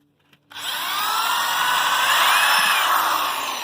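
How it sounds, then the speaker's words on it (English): A Ryobi hole saw bores through material in one long, loud, steady whine after a brief quiet start, the high grinding tone holding level for about three seconds before easing slightly. "Here's the hole saw. Ryobi. It goes basically like that."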